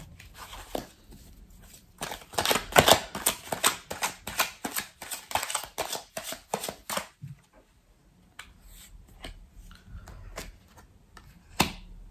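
Tarot cards are shuffled in quick crisp riffling bursts, then a few separate slaps and flicks as cards are drawn and laid down, close and alone with no talk.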